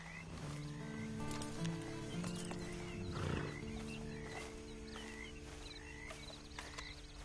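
Horse in the Western video game Red Dead Redemption 2 Online, with steady clip-clop of hooves and a neigh amid droning outdoor ambience and game music, fairly faint throughout.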